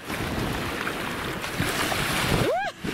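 Sea waves wash and break continuously along a cold shoreline with wind, ending in a short splashing crash near the microphone; no one speaks.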